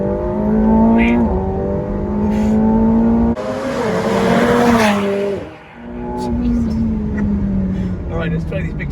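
Turbocharged supercar on a track pulling hard under acceleration, engine tone climbing through gears with a short tire squeal midway, heard from inside the cabin close and loud beneath people talking.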